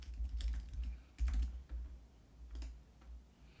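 Someone types an email address on a computer keyboard, giving soft, irregular key clicks up close over a low background rumble, with no talking.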